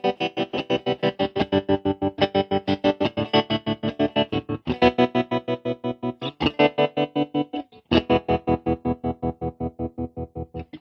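A distorted guitar chugs through a MadeByMike Saltshaker tremolo pedal set to square wave, chopping the sound into rapid, evenly spaced on-off pulses that stutter like a machine.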